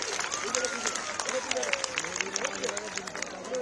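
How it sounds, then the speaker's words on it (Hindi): A crowd at a political rally for JP Nadda breaks into sustained applause, a dense wash of clapping heard under a speaking voice. "तो एक बार जोरदार मोदी जी के लिए आप ताली बजा करके अभिनंदन कीजिए।"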